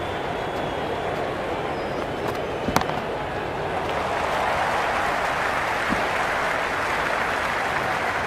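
Steady, dense crowd buzz fills the stands at an India vs Pakistan T20 World Cup cricket match, a continuous roar of many voices with a brief sharp crack partway through.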